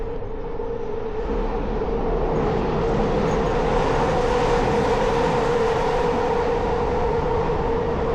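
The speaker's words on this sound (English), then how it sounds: "So here is part of a SkyTrain route." A SkyTrain runs along an elevated route at night in the Central Park neighbourhood, a loud, steady rail rumble with a droning hum that holds unbroken for the full stretch.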